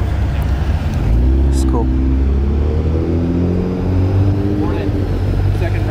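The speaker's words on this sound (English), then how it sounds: "Great variety of cars rolling in." Modified JDM cars roll into a Cars and Coffee meet, a continuous low engine rumble with a rising rev near the start, while someone talks briefly over it.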